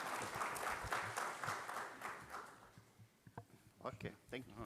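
Conference audience applauding at an opening and award ceremony, a broad wash of clapping that fills the first three seconds and then fades out as a voice begins speaking.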